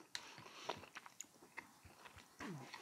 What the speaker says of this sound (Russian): Корочка хрустит.